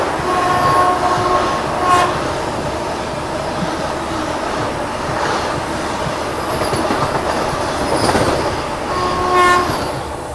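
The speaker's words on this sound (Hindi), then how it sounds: "तो देखा आपने बैक टू बैक भाई वंदे भारत की हमें क्रॉसिंग देखने को मिली है।" A Vande Bharat express train passes on the neighbouring track, a steady loud rumble of wheels and carriages throughout, with brief horn-like tones and squeals standing out near the start and end.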